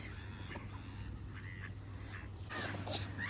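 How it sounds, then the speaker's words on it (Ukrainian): Swans, ducks and gulls at open water, with scattered honks and bird calls rising above a steady low background hum, louder bursts near the end; no talk. "Лебеді, качки. Кря-кря. І чайки тут літають."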